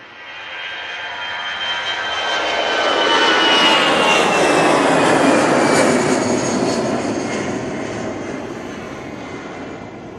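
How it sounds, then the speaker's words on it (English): An easyJet Airbus A320-200 rolls and lifts off at Manchester Airport, its jet roar swelling to a loud peak midway, then slowly receding, heard alone. "EasyJet on the roll, A320,"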